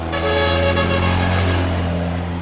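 A big truck's air horn blasts in street traffic, one loud sustained blare with strong steady harmonics that holds for the whole stretch, close and dominant over the engine rumble.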